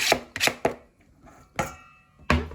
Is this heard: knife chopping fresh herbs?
yes